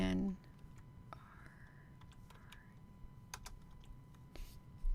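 Typing on a computer keyboard, a few scattered quiet key clicks close by in a hushed room, with brief soft voice sounds at the start and end.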